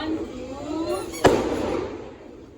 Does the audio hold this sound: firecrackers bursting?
yes